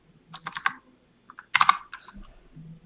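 Two short bursts of quick keystrokes on a computer keyboard while entering text in Premiere Pro, clicking close and clear in an otherwise quiet room.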